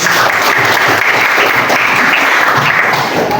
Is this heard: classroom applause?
yes